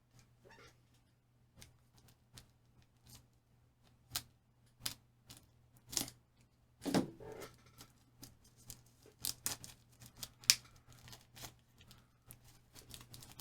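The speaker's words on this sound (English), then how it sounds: "make sure I don't cut it with a knife while I open it." A knife cuts through the plastic wrapping on a new Thomas Nelson Compact NKJV Bible, giving quiet, close, irregular clicks, snips and crinkles spread over several seconds.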